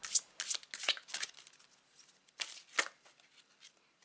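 A deck of oracle cards being shuffled by hand, with a run of crisp riffling and slapping bursts, quiet and close, pausing briefly between shuffles.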